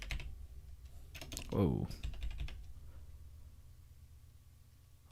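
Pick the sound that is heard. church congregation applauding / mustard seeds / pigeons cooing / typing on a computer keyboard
typing on a computer keyboard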